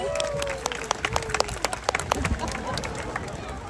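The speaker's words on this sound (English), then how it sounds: "please give yourselves a big round of applause as well" Scattered audience applause from a small crowd at an outdoor wildlife bird show, with sharp individual claps and light crowd noise, moderately near.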